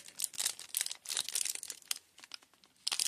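Crinkly foil wrapper of a 1992 Upper Deck baseball card pack being tugged and torn open, a run of sharp crackling rips and crunches close up, with brief pauses between pulls.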